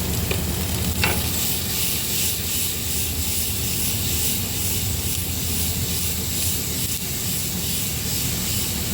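Food being stirred in a frying pan of hot oil with a pinch of salt, a steady loud sizzle and hiss running throughout, with a few scraping stirs near the start.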